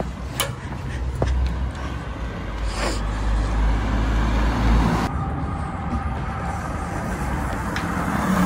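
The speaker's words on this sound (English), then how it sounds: "Mark's car." Mark's car driving past on a roadway during race week, a steady broadband road rumble that stays loud and continuous throughout, with a brief swell near the middle and voices faintly underneath.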